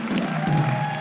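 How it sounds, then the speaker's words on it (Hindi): A studio audience on an Indian comedy show claps in a brief burst of applause, a dense moderate patter of many hands with a faint voice tone running underneath. "ताली बजाएं"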